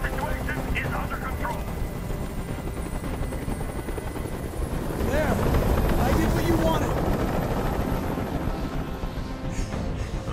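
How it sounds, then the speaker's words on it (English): A helicopter from the Detroit: Become Human game hovers close, its steady loud rotor drone persisting throughout and swelling midway, with voices speaking over it. "I can't stand that noise anymore. Tell that helicopter to get out of here."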